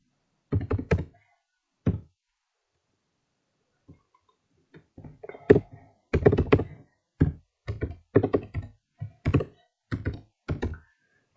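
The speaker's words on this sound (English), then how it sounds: "type this in" Keys clack on a laptop keyboard in short bursts of typing separated by pauses, close and distinct, each press a sharp tap in an otherwise silent room.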